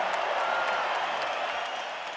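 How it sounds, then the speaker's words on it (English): Applause and crowd noise at a middleweight boxing match at Madison Square Garden in New York City, a steady broad roar of clapping from a large arena crowd. "A round of applause for both fighters in this middleweight contest."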